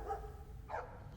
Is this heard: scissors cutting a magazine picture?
no